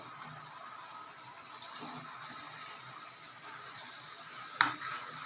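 Fried potatoes and fish heads being stirred into cooking cabbage in a pan, a faint steady sizzle with soft scraping, ending in one sharp clink of the utensil against the pan.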